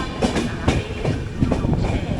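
The 12618 Mangala Lakshadweep Express pulls into Morena station, heard from on board: a loud, close rhythmic clatter of wheels over rail joints with a steady rumble beneath.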